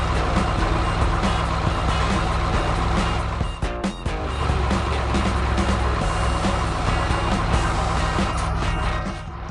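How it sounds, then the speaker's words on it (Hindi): A cartoon cargo truck works a large warehouse yard, its engine droning steadily with repeated reversing beeps over busy background music, a brief dip midway before the loud motor sound resumes. "मालवाहक ट्रक अपना दैनिक कार्य करने में व्यस्त"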